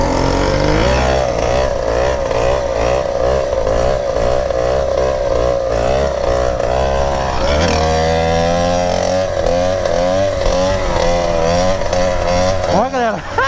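A small RD motorcycle engine runs loud and close with a buzzing two-stroke tone, revving up and down in repeated surges before it settles into a rising, steady pitch.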